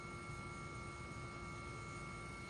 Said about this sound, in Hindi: सर जो हेलीकॉप्टर ये जो चल रहा है जिसमें हम बैठे हुए हैं